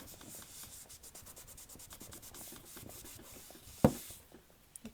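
A damp cloth rubs chalk off a chalkboard in quick, soft back-and-forth strokes, a light scrubbing texture ending with a sharp knock.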